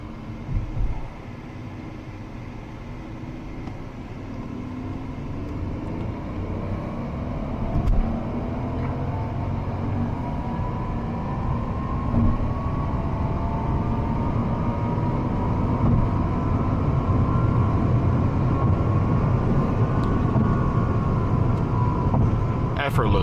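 A Mercedes-Benz W221 S600 with a V12 engine accelerates on the Autobahn, its smooth engine note rising steadily inside the cabin under continuous road and wind noise while someone talks.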